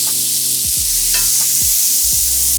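Shallots and star anise fry in a hot pan with a loud steady sizzle. Several stirring scrapes and knocks repeat roughly every half second, and no voices are heard.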